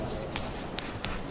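Chalk or marker writing measurement values on a board during a potentiometer experiment for a cell's internal resistance, short scratchy strokes in quick bursts under a steady background hum.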